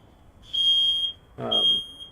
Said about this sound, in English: They actually turned the alarm off quickly this time.